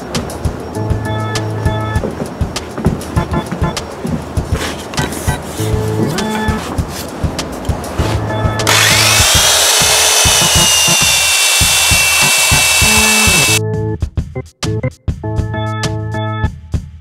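A Bosch PBS 75 AE belt sander with an 80-grit belt runs at speed 1 amid clattering workshop knocks and handling noises, then settles into a steady loud whir for several seconds before stopping.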